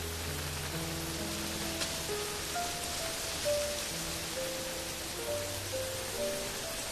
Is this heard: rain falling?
yes